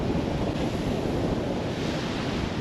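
Sea waves wash steadily onto the beach at Anderby Creek, a loud, continuous rush of surf mixed with wind buffeting the microphone.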